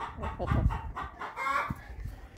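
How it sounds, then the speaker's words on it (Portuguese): A tame Brahma hen clucking close by in a few short, soft bursts at an easy rhythm, with no talk over it. "Essa aqui é a nossa galinha brama, muito mansinha, muito querida."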